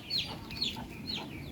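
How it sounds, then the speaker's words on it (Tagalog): Chickens in a backyard flock of chicks, hens and a rooster give repeated high peeping calls over a low, steady background murmur. "Dito, yan ang aking mga sisiw, inahin, nandyan din ang tandang"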